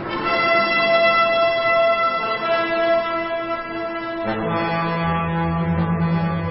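Horns blow in a dramatization of Gideon's night attack on the enemy camp, with sustained brassy blasts that change pitch partway through and ring out loud and steady, no talking over them.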